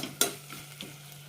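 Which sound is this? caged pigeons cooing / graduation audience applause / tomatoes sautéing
tomatoes sautéing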